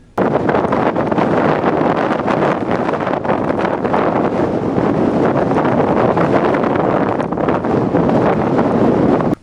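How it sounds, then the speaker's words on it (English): Strong wind buffets the microphone beside Elie Ness Lighthouse in Fife, a loud, continuous roaring rumble that holds steady for the whole stretch with no let-up. "to get a sense of how strong the wind was, here's a clip with the audio not muted"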